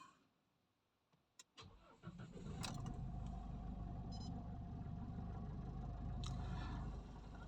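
An Isuzu MU-X with automatic transmission cranks briefly after a couple of clicks, then its engine catches and settles into a steady idle close by, with no talking.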